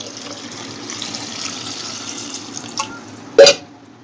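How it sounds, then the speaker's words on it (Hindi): Water runs in a thin steady stream into a pot of Bihari-style jackfruit curry, faint and continuous, ending with a short louder splash or clatter near the end. "एबे मु भीतर किछि पानी दे दिली"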